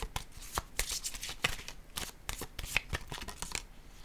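A deck of cards is shuffled and a pink card drawn, a run of quick riffling flicks and taps close by, with soft breathy voice traces in the background.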